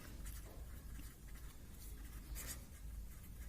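Marker or chalk writing on a board during a chemistry lecture on the periodic table, soft continuous scratchy strokes with a few brief accents, faint and alone with no talk.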